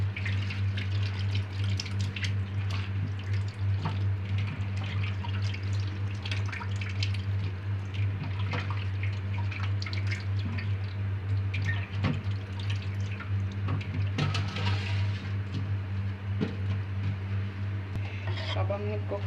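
Water drains off freshly washed bitter gourd, giving scattered drips and small splashes over a constant low hum from the kitchen.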